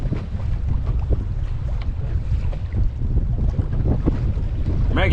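Strong wind roars steadily across the microphone on the St. Lawrence River while fishing from a boat, a constant, loud low rumble with gusty buffeting and faint water sounds throughout.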